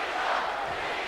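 A wrestling arena crowd in the WWE 2K19 video game, set in Indianapolis, roars in a steady, dense wash of cheering that holds throughout the short moment with no clear voice on top.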